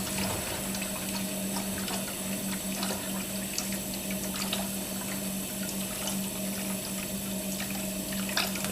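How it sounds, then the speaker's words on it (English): Water running steadily from a kitchen tap, a constant hissing splash with a low hum underneath, even and unbroken throughout. "Get you some water running so you got a place to rinse your hands"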